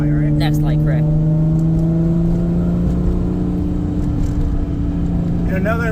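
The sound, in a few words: Nissan R32 Skyline GTS-t engine while driving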